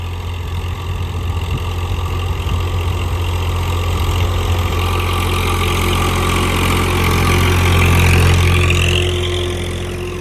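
Tractor engine running steadily while ploughing a cumin field, a loud continuous low drone with a constant hum that swells slightly toward the end.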